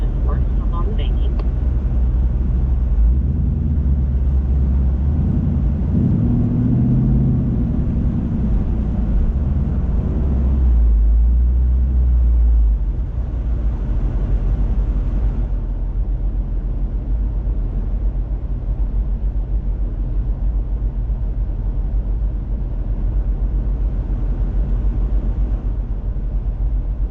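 A Ford Mustang engine drones loud and steady in third gear through a race track infield, its note swelling and then easing off while someone talks over it throughout.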